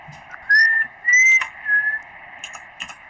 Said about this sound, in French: Qui siffle là?